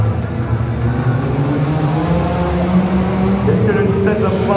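Stock car engines drone and rev in the background during a race at Eurexpo in Lyon after a pileup, a steady motor hum running beneath continuous commentary.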